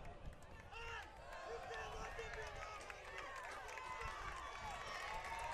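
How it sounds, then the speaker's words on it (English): A high school football crowd in the stands roars and cheers on a big third down, a steady wash of distant voices and whoops under a commentator's continuous talk. "It's the crowd getting into it here on a big 3rd down"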